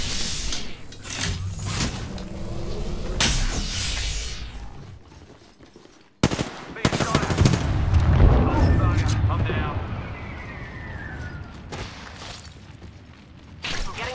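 Gunfire striking the player in Apex Legends on the Broken Moon map, with rapid sharp impact bursts, clattering mechanical hits and a brief cut to silence midway, loud and dense under a talking voice.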